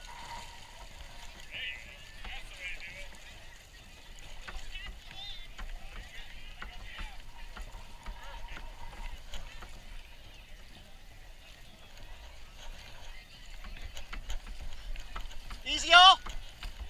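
Racing boat crew paddling at a regatta on open water, soft rhythmic paddle strokes and water sloshing under a coxswain's spoken commands, with wind and a brief sharp burst near the end.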